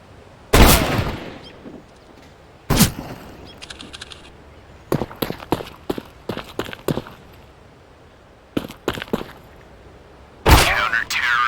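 Sniper rifle shots ring out in the CS:GO video game, several loud sharp cracks spaced across the span, mixed with quicker bursts of distant gunfire and footsteps.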